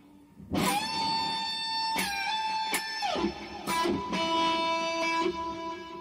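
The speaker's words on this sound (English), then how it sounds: "And then re-pick it once again, just for luck." An electric guitar note is bent, released and re-picked several times, each attack ringing with sustained, sliding pitch; close and solo, with no talk.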